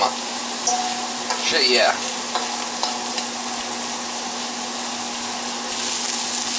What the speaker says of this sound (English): I'm going to pan sear it here